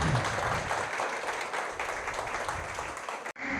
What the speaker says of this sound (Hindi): जोरदार ताली बजा दिए आज के सेशन के।